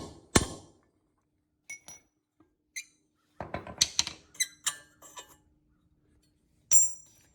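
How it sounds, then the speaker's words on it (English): Hammer and cold chisel knocking a stuck rear wheel bearing loose on a Polaris Ranger XP 900/1000: a single sharp metallic strike, then a rapid cluster of clinking blows, one last hit, close and with no talk. "we're just using a hammer and a cold chisel here, just trying to knock it back loose"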